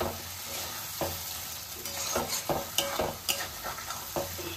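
Tomato and potato frying in a thick spice masala for Bengali ghugni, with a steady sizzle and repeated scraping stirs of a spatula against the pan at an uneven rhythm, close and fairly loud, no talking.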